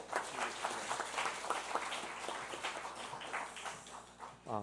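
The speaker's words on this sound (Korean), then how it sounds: "박수로" Church congregation applauding a certificate presentation during a Sunday worship service, steady crowd clapping filling the room for several seconds without a break.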